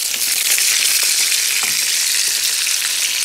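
Koi fish frying in hot oil for a Bangladeshi curry, a loud, steady, close sizzle with fine crackling and occasional faint stirring, no speech.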